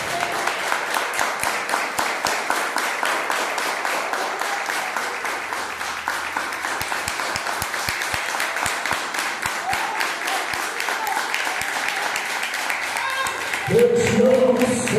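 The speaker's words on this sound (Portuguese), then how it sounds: "Só quem ama a Deus dá uma salva de palmas." A church congregation applauds at length, a steady wash of many hands clapping with rhythmic spikes throughout, ending with a brief rise of voices and music.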